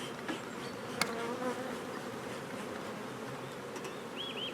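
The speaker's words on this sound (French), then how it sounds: "on a beaucoup d'abeilles sur la partition" Honeybees buzz around an open beehive while a super is being added, a soft, continuous close hum with occasional louder passes of single bees near the hive.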